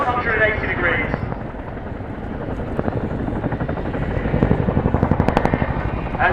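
An RAF Chinook helicopter performing a pedal turn during an airshow display at Cosford gives a loud, continuous rotor thudding that beats faster and heavier near the end, with a commentator talking over it.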